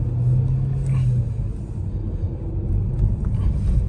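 A Hyundai Grand i10 Nios with automatic transmission accelerating hard, a loud low engine drone and road rumble filling the cabin steadily, with no speech over it.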